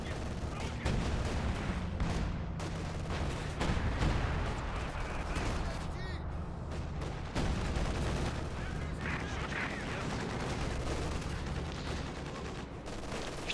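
An ISU self-propelled gun firing in the strategy game Company of Heroes 2, amid a dense battle soundscape of booms, gunfire and explosions that run continuously at moderate loudness.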